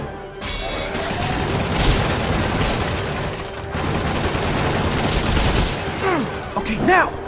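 Continuous enemy gunfire and action effects in the Spider-Man Remastered video game form a dense, steady clatter for several seconds, ending with a burst of whooshing sweeps.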